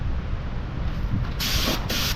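A spray gun painting wheels with gray flake paint, two short bursts of loud hissing spray in the second half following a quieter stretch of background rumble, with no talk.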